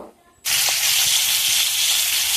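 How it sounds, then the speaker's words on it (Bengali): A sudden loud burst of hissing sizzle as food hits hot oil, then a steady crackling fry continuing to the end. "ভাজতে দিয়ে দিয়েছি চিংড়ি মাছগুলো"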